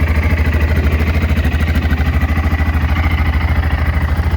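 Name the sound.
2003 BMW F650GS Dakar motorcycle engine running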